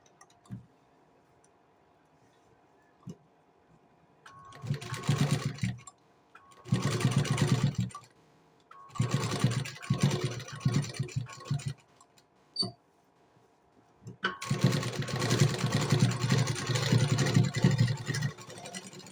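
A sewing machine stitches blouse fabric in several separate bursts of rapid whirring, each a few seconds long, with quiet pauses between them and a longer run at the end.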